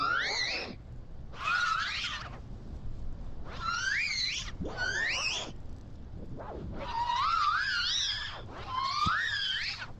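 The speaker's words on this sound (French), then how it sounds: "Donc là, c'est The Tape qui va hurler." Shrill, wavering screams from the creature The Tape in the VR game Paper Beast, six loud rising-and-falling cries in bursts separated by short gaps, with no talk.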